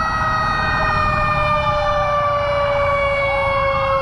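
An ambulance siren on a toll road wails loud and close, its steady pitched tones sweeping over road noise with no talking.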